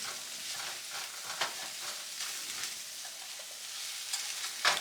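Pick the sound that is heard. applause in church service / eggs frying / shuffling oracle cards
eggs frying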